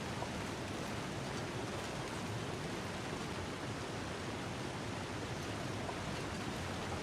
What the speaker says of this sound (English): now I've got this waterfall flashbanging in my ears